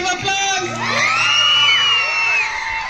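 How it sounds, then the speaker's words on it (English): A school crowd at a Christmas celebration cheers and shouts together, children's voices whooping in a loud, close burst that swells and holds for a few seconds. "give her a round of applause"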